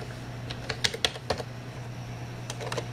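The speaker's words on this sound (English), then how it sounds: "We're going to type" Typing on a computer keyboard while entering Linux commands at a desktop, a short burst of crisp, close key clicks followed by a pause and a few more taps over a steady low electrical hum.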